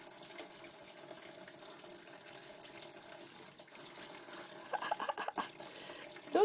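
Tap water running steadily into a bath for a dog named Bandit, a soft continuous splashing flow close by, growing a little louder near the end.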